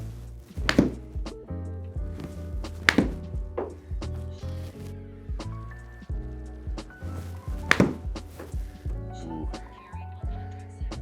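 Golf club strikes on a ball during practice with a launch-monitor setup, several sharp, loud impacts spaced a few seconds apart over a steady background hum.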